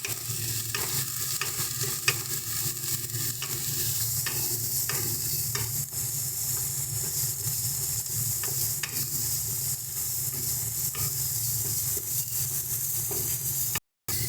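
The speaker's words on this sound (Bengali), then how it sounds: "এবার সমস্ত মশলাগুলোকে খুব ভালো করে কষিয়ে নেব।" A spice paste of ground ginger and green chilli sautéing in a pan for a rita fish dish, with a steady close sizzle and repeated soft spatula strokes, no voices.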